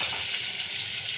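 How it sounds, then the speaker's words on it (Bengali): Square-cut onions sizzle in hot oil, a brief, even, bright frying hiss with no voices. "এই তেলে রান্না করব। চৌকো করে পেঁয়াজ কেটে রেখেছি, এই পেঁয়াজটা দেব।"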